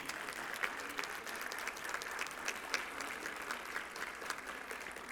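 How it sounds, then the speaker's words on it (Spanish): A political youth swearing-in audience gives steady, faint, distant applause that runs throughout with no talking. "me gustaría que ustedes mismos se dieran un aplauso a los Jóvenes México por estar aquí"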